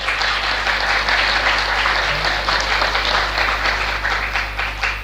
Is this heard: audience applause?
yes